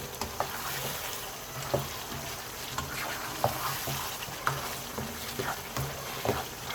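Minced meat sizzling and frying in a pan for dum keema, with steady crackle and repeated stirring scrapes at an uneven rhythm, close and moderately loud, no talking.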